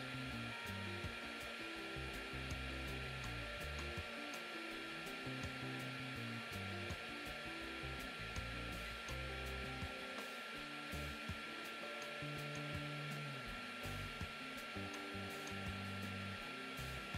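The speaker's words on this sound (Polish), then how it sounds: "Po włączeniu opalarki wyraźnie słyszalna jest praca wentylatora, jednak hałas nie przekracza 69 dB." A Dedra DED7058 cordless heat gun runs its fan in a steady, continuous whir that holds at an even level throughout, with no talking over it.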